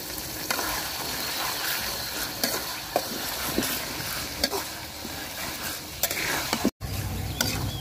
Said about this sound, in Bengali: তো শুটকিটাও আমি সুন্দর করে ভাজা নিচ্ছি মশলার সাথে।